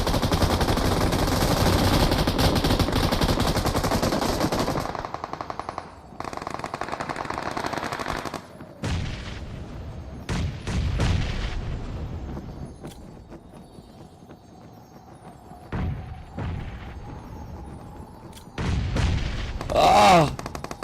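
Rapid bursts of M249 and AKM automatic gunfire mixed with single rifle shots from a video game, loud and close, with brief quieter gaps between volleys.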